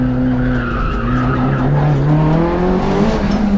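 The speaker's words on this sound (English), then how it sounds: "Carrying so much speed through this first corner." Mitsubishi Evo race car carrying high speed through a corner, its tires squealing loudly and continuously over the steady engine drone, close and sustained throughout.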